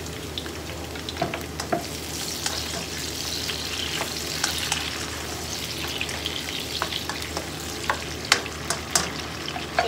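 Tomatoes frying in a pan for pinakbet, a continuous moderate sizzle with scattered sharp pops and utensil taps against the pan, heard alone without talk.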